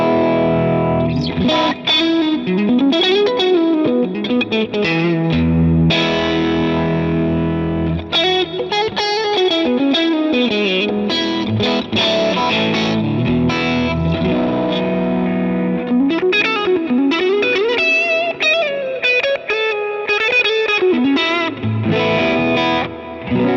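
Guitar played through a Line 6 HX Stomp using the Vox AC30 amp model, a loud, continuous, effects-laden tone with sliding melodic lines and sustained chords, heard alone.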